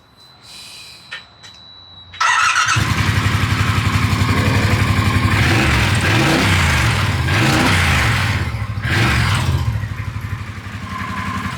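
A twin-turbo bobber motorcycle engine starts after a couple of seconds of quiet, then runs loud and close with a steady idle and several blips of revving.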